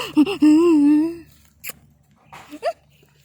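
Dogs play-biting each other, with a drawn-out whine or yelp followed by short yips, snuffles and small scuffles close by.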